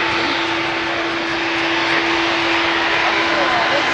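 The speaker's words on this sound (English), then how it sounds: "Aer Lingus A330 going to Orlando." Aer Lingus Airbus A330 at Manchester Airport, a steady broadband jet roar with a constant engine whine, loud and continuous throughout, with faint voices beneath.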